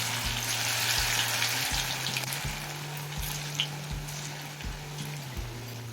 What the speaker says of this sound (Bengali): ছোটো ছোটো আকারে বড়াগুলো ভেজে নেব